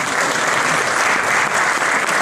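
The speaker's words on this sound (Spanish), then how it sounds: "Un aplauso para Julián, que ya hizo la presentación" An indoor audience at a talk on education bursts into applause, dense even clapping filling the whole stretch, loud and close with no speech over it.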